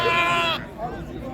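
A sheep gives a loud, close bleat at a sheep market in Bishkek, followed by fainter bleats and crowd murmur in the background.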